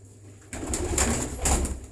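Pigeons of a bred fancy variety coo close by, two soft swelling calls arriving about half a second apart after a quiet start, with no talk.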